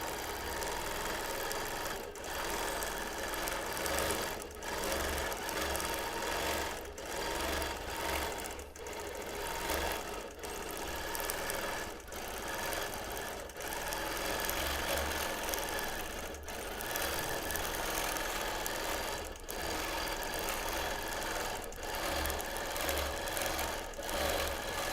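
Sewing machine running steadily for free motion quilting of a hibiscus design, a continuous loud mechanical whir and stitching buzz with brief regular pauses throughout, no talking.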